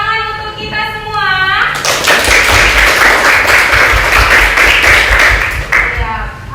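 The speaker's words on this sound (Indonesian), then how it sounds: "Tepuk tangan untuk kita semua" Schoolchildren in a classroom clap together after their teacher speaks, a burst of dense, close clapping lasting several seconds before her voice returns over the fading applause.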